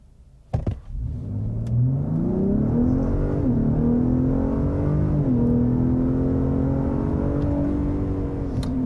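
A 2022 Ford F-150 Raptor with a JDM exhaust launches from a standstill at full throttle in sport mode, its engine roaring loud and close as the pitch climbs through the gears with a brief dip at each shift.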